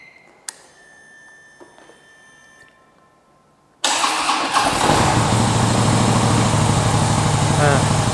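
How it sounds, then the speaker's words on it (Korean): A Harley-Davidson Street Bob with a twin cam engine and stock muffler starts after a few faint clicks, then settles into a loud, steady, rumbling idle close by. "이제 시동 한번 걸어 보겠습니다."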